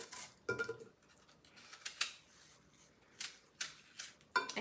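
A kitchen knife cuts peeled apples into slices for an apple crisp. Several short, crisp cuts are spaced irregularly and heard up close, with faint clatter between them and no talking.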